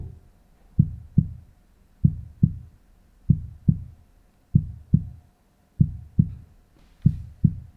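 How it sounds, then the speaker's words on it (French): Deep, steady heartbeat thumps in paired lub-dub beats, repeating evenly and close, with nothing else behind them. "des battements de cœur pour rajouter un petit peu de pression dans la vidéo"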